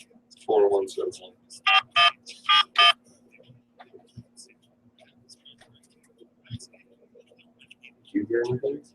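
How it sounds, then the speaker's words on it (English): Telephone keypad tones from dialing a number, several short bright beeps in quick succession, with people talking briefly before and after. "I just heard your button tones."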